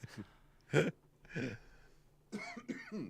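Several short, harsh coughs in separate bursts, close and moderately loud, with quiet pauses between them.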